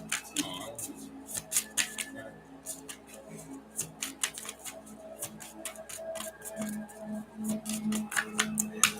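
Tarot cards are shuffled and handled during a reading, making quick, crisp riffling and flicking bursts up close at a low level, with faint talk in the background.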